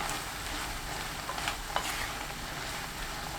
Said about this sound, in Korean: 청양고추, 파 넣고 30초 볶아주세요